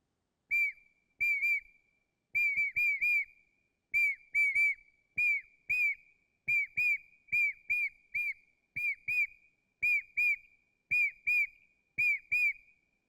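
Shrill bird-like whistle from a 2,800-year-old shepherd's bird whistle, blown in quick bursts of two to four chirps, repeated steadily with short pauses, clear and alone.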